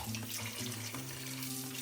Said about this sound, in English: Go ahead, wash it and squeeze out the water.